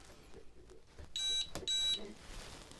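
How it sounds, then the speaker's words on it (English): A Dromida KODO quadcopter gives two short high-pitched electronic beeps close together as its battery is plugged in, after faint handling noises, with quiet background between. "You'll hear it beep like that"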